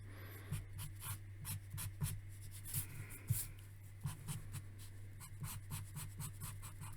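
A pen lays black ink on paper in quiet, fast scratchy strokes that come in short repeated bursts, with a steady low hum underneath and nobody speaking.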